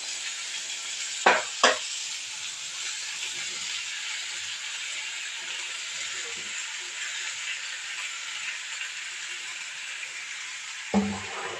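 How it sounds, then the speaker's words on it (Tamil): Tomato and chopped ridge gourd sauté in a pan for a pepper sambar: a continuous soft frying hiss, broken by a few sharp clinks of stirring near the start and end. "அது கூடவே நம்ம வந்து பீர்க்கங்காயும் சேர்த்து நல்லா வதக்கிக்கலாம்"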